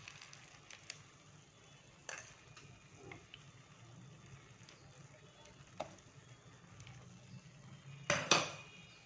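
Cooked sweet zarda rice being gently mixed with chopped dry fruits in a pot, with soft scraping and a few scattered metallic clinks of a spoon, quiet and close, ending in a louder clatter.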